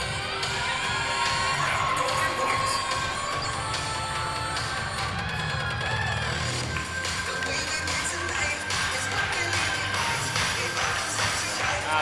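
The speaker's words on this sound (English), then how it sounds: "The crowd appreciates it as well." Arena crowd at a cheerleading championship cheering and whooping steadily throughout, with shouts rising over a dense, continuous roar of applause and noise.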